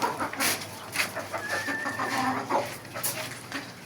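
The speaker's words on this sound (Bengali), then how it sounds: "কয়েকটা ফার্মি মুরগি লাগাইছি, তো মাশাআল্লাহ এটাও ডিম দেওয়া শুরু করছে।" Farm-breed laying hens kept in a small backyard setup cluck softly and steadily. Faint bird chirps are scattered through the sound, with no talking.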